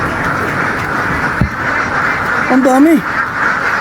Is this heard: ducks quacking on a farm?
yes